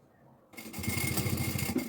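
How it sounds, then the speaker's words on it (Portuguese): A sewing machine runs a continuous stitching burst along a seam on a preschool backpack, starting abruptly after a moment of near quiet and whirring steadily and close up to the end. "vamos passar aqui uma costura"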